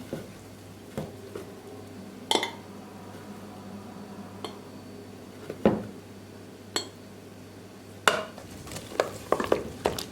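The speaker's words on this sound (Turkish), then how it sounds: "İki bardak unu koyduktan sonra şöyle bir karıştıracağım ve e, dinlenmeye bırakacağım." Flour being stirred in a bowl with a utensil while making a single dough for börek and bazlama, giving a run of scattered clinks and scraping knocks against the bowl, sparse at first and then quicker toward the end, with no talk.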